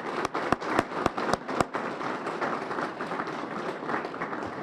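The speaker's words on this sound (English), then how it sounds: "So could we have a nice round of applause for her?" Round of applause from an audience at an outdoor grant ceremony, a dense wash of clapping with a few sharp, close claps near the start, steady at moderate level throughout.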